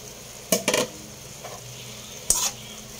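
Beef steak with onions and chili gets stirred in a pan, producing a couple of brief bursts of spatula scraping and clatter over a faint background sizzle.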